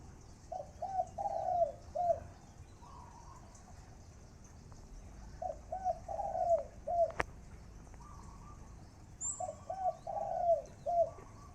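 A decoy dove coos in repeated phrases, clear rhythmic bursts separated by pauses, fairly close against a quiet background with a single sharp click midway.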